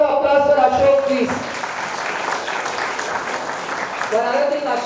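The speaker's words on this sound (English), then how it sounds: "Big round of applause for Ashok, please." An audience at a software hub launch event claps steadily in a continuous wash of applause, with a voice speaking over it at the start and end.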